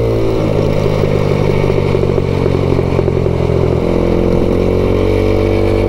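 A 2021 MADDOG Generation V 150cc scooter engine hums steadily while riding, a loud, continuous mid-pitched drone with slight shifts in pitch as the throttle varies.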